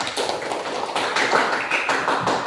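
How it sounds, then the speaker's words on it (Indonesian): A classroom applauds, a dense, steady patter of many hands clapping together close by, loud and continuous, without talk. "Berikan aplaus untuk Ulan."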